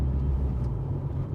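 A Mitsubishi Lancer Evo 9 MR's engine rumbles loud and low from inside the car, a steady, deep drone with no speech over it.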